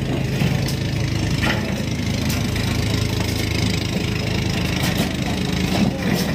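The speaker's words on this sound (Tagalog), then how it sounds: "Parang kala mo yung makina pinapagana." Engine of a large wooden outrigger boat in Surigao del Norte running steadily, a loud continuous low drone with rattling clatter throughout, close by and unbroken.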